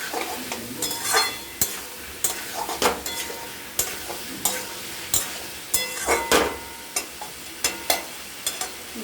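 Spices, including chili powder, are stirred and fried with a fish head in a pan, a spatula scraping in repeated sharp strokes over a steady low sizzle, with occasional clinks against the pan.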